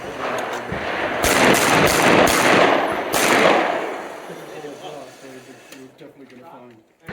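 Handgun shots at an outdoor shooting range crack loudly in a quick cluster, each leaving a long echoing tail that slowly fades into quieter background noise.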